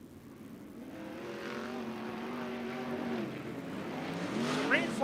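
Sprint cars run hot laps at Wayne County Speedway during Ohio Sprint Speedweek, a distant engine roar that swells and rises in pitch as the cars accelerate, under a steady crowd and track ambience.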